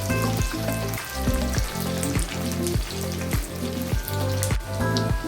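Garlic and chopped onions frying in hot oil in a pan give a steady, loud sizzle, with regular clattering strokes of a utensil roughly every half second throughout.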